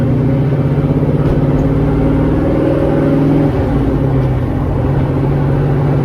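1969 Camaro engine droning and pulsing as the car drives, with a steady throaty low rumble that builds slightly under acceleration, heard from inside the cabin without talking.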